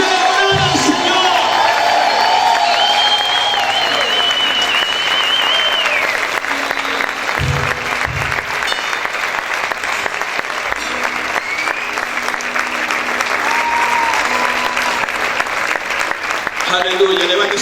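A church congregation applauds loudly and continuously for a long stretch, with cheers and whoops rising from the crowd and voices shouting throughout.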